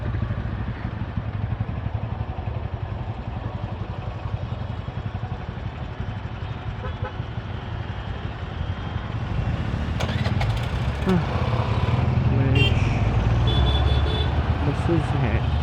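Busy Mumbai street traffic with buses and other large vehicles, a steady dense rumble of engines throughout that swells louder in the last few seconds, with horn-like tones and voices nearby.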